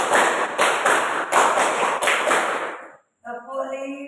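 A classroom group repeats a four-clap rhythm twice, giving eight sharp, loud, regular clap bursts in a row. A voice follows briefly after a short pause.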